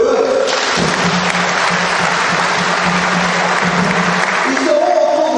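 Congregation applauding loudly in a cathedral during a diaconal ordination Mass, a dense, steady burst of clapping that starts abruptly, holds for several seconds in the reverberant space, then cuts off.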